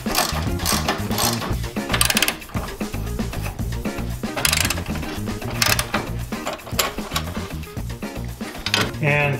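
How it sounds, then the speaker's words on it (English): A ratchet works loose the bolts on a Jeep Wrangler radiator after the fan shroud is removed, giving rapid clicking runs in repeated bursts, close and fairly loud, with some voice in the background. "It's just a matter of unbolting the radiator."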